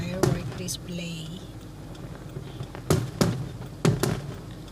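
Eid fireworks over Al Khobar pop and crackle in a few sharp bursts at a distance, with faint voices in the background between the blasts.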